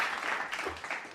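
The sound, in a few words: applause sound effect played on stream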